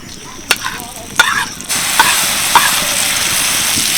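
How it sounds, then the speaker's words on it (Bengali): Grated mango with grated ginger fries lightly in tempering spices: a few sharp clicks and stirs at first, then a steady, close frying hiss that swells and holds to the end. "আমটাকে একটু হালকা করে ভেজে নিলাম ফোড়নের সাথে"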